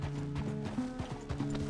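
Horse hooves clip-clop in a steady walking rhythm in Red Dead Redemption 2, close and fairly quiet, with a brief snort or whinny mixed in.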